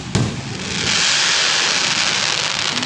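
A sharp bang followed by a dense, continuous crackling roar of fireworks bursting close by, loud and sustained.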